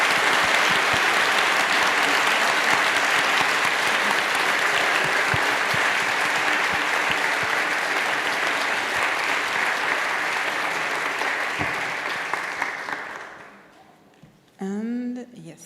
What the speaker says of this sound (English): please join me in applauding Claire one last time